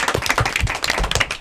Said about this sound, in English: I always like to end with a big round of applause for yourself.